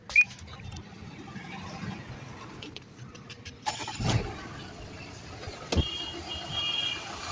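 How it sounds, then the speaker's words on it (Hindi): A Tata Indigo eCS diesel engine hums steadily from inside the cabin while driving after an oil change, with a couple of louder thumps and clicks partway through. "डीजल इंजन है तो आवाज़ तो खैर आना बनता भी है"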